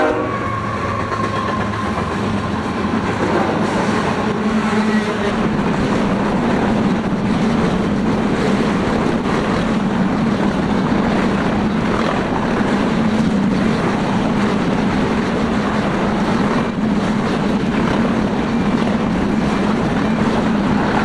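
A westbound BNSF freight train led by locomotive 8008 rolls steadily past, with a loud continuous rumble of wheels and cars and faint rhythmic clacking throughout.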